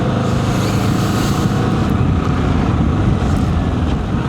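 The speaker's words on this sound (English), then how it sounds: "Nothing quite like being on a bike, a country road like this." A motorbike cruises along a country road past empty fields and large houses, its steady engine drone buried in loud, continuous wind roar with no let-up.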